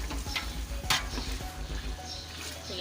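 Green chillies stirred into a hot frying pot while making Punjabi chicken yakhni pulao, giving close scraping, rustling stirring strokes over a low steady sizzle, with one louder clatter near the middle.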